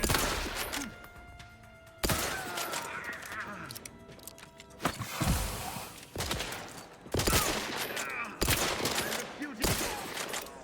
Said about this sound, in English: I want to shoot those things so bad.